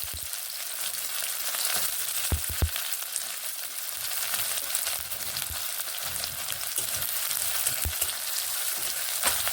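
Onions fry in oil with panch phoron and green chillies in a pan. A steady crackling sizzle is broken by occasional knocks and scrapes of a spoon stirring. It is close and moderately quiet, with no talking.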